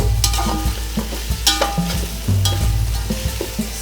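Ginger garlic paste frying in a pan for Arabian chicken kabsa, with steady close sizzling and repeated metal stirring scrapes and clinks throughout, no voices.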